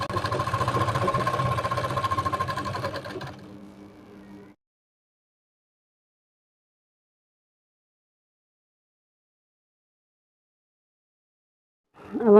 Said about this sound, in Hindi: अब हम इसमें पक्का कर लेंगे दूसरी सिलाई लगा के।